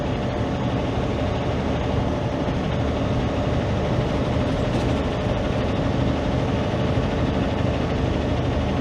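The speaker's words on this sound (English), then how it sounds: "Got a big old train rolling up." A steady, heavy low rumble of a train rolling past in snowy winter in upstate northern New York, constant and fairly loud throughout with no voices.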